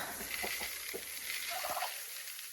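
Faint turkey gobbling from a small farm flock fed grain mix of wheat and corn, a few short warbling calls scattered over a quiet, somewhat distant background.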